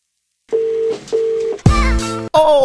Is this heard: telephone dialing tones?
yes